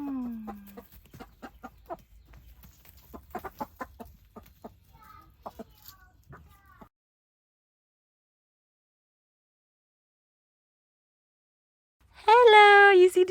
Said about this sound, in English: you see the chickens? They say hello.